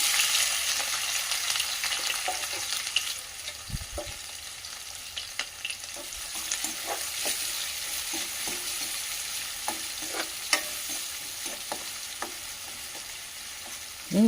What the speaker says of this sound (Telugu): ఉల్లిపాయలు వేసుకోవాలి చూడండి ఉల్లిపాయలు పచ్చిమిర్చి వేసుకుంటాం